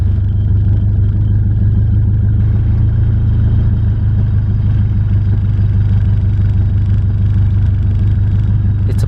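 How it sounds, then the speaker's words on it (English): A car engine idles steadily right after starting, a low, even rumble with faint clatter holding constant throughout, close and alone with no voices. "Now we just check the idle real quick."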